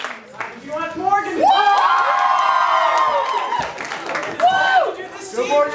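A mixed crowd at a Greenhill improv show cheers, whoops and claps to vote, swelling to a sustained loud roar then fading, with a host talking at the start and end.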